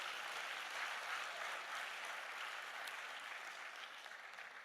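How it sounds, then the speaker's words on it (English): An audience at a talk on the Ghana diaspora claps steadily. The applause is dense and sustained, moderately distant, and tapers slightly toward the end, with no voices over it. "I want you to give a round of applause to him"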